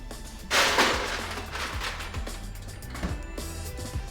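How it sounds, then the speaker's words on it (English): Ice being tipped into a mould tray in a home kitchen, a loud clattering rush of cubes at first followed by scattered knocks and rattles as pieces settle, close up and with no talking. "you want some ice in the tray"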